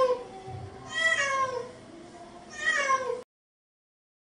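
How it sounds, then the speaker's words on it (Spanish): A cat meows twice, clear and close, each call rising and falling with a pause between them, followed by silence. "Es un gato muy simpático."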